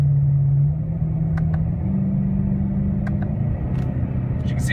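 A 2009 BMW M3 with DCT gearbox idles and pulls away gently in its docile mode, a steady low engine drone stepping up in pitch with barely noticeable smooth gearshifts, close and loud throughout.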